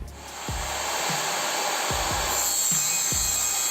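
A cordless circular saw whines steadily while cutting through hard meranti wood, with repeated low thuds as the blade bites, loud and close.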